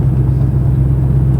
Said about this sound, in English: Listen to this. That's 6th gear.